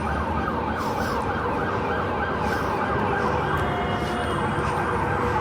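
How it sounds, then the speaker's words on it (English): An unmarked police car's siren wails continuously on a New York City street, its pitch sweeping up and down in a repeating pattern, loud and close over traffic rumble. "Oh, that's an unmarked police car, but it gave away its unmarkedness."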